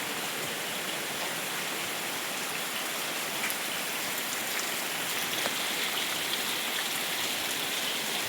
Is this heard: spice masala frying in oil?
no